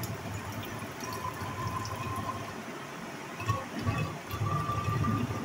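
Vinegar pours into a bottle with a faint, continuous liquid trickle and gurgle, up close, swelling slightly toward the end.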